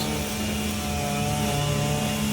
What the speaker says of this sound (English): Excuse the noise, landscaping going on behind me, some guys cutting the grass.